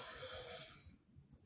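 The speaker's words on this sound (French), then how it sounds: "Elle va d'abord se faire en prenant une grande inspiration par le nez" A long, deep breath drawn in through the nose, a steady airy hiss lasting about a second before it tapers off, close and fairly loud, leading into quiet room noise.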